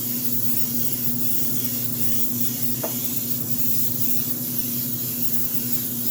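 A spray gun lays a light coat of Color GX 102 deep clear red paint, a steady, continuous hiss that holds throughout with a faint underlying hum and one tiny tick midway.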